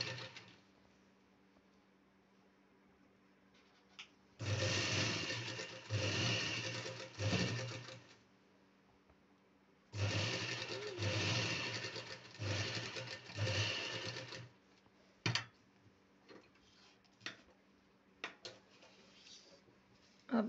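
Sewing machine stitching a straight seam to attach a pocket on a salwar, running in two loud bursts of rapid whirring with brief pauses, then quieter with scattered clicks.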